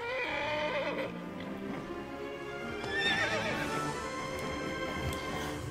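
Horse neighing and whinnying with clip-clopping hooves from the Kingdom Hearts 3 video game, a loud, continuous whinny rising in pitch near the middle over steady game sound, with no talk.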